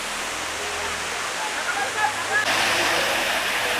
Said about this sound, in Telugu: తలకోన వాటర్ ఫాల్ అయితే చూసేసాం